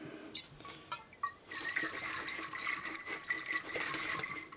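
Cold water rushing and splashing steadily as a shisha bowl is rinsed out under a tap, a continuous close hiss with a few brief clinks early on.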